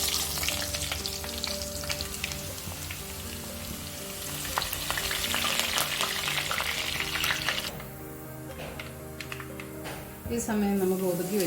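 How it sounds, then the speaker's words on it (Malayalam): Grated coconut sautés in hot oil in a pan, giving a close, busy frying hiss with stirring scrapes that quiets briefly near the end before flaring up again; a voice talks faintly underneath at times. "ഈ സമയം നമുക്ക് ഒതുക്കി വെച്ചിരിക്കുന്ന തേങ്ങയിട്ട് എണ്ണയ്ക്കകത്തിട്ടൊന്ന് വഴറ്റണം"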